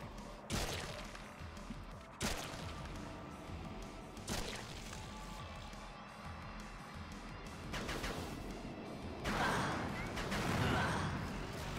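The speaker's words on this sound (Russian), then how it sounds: "Сейчас одно выстрелит, второе выстрелит." Weapons fire in the shooter game Slayers X: Terminal Aftermath: Vengeance of the Slayer, with several sharp thumping blasts spaced a couple of seconds apart, then a louder rumbling burst near the end.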